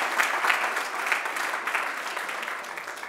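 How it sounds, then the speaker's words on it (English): Audience applause at an Arduino Day award announcement, a steady patter of clapping from a modest crowd, moderately loud and continuous with no talk. "Applause."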